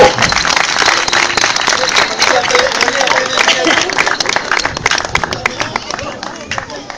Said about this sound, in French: Je pense qu'on peut applaudir la victime du jour.